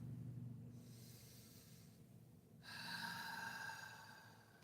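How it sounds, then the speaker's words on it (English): A person's yawn during a quiet relaxation session: a soft, drawn-out breathy exhale, faint and close, with gentle breathing before it. "I just yawned, so I'm definitely relaxed already."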